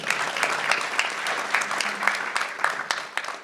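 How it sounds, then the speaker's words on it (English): Applause from a convention audience after a coaching presentation on match analysis, steady dense clapping throughout at moderate volume with no talk over it. "How about applause for Jeremy?"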